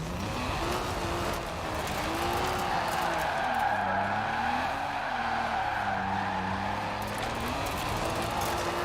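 A drift car in a racing video game slides with a long, wavering tire squeal over a loud, continuous engine drone, the pitch of the squeal bending up and down as the slide continues.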